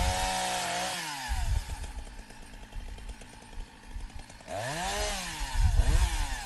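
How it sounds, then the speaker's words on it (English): A chainsaw runs close by in front of a team of oxen, its engine revving up and down in surges with rising and falling pitch, loud and steady over about six seconds. "Here he's running the chainsaw in front of them"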